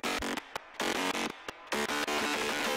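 A monophonic gritty, grindy synth plays a single note in choppy gated bursts, harsh and buzzy with a bright edge, loud and close with short silent breaks between phrases.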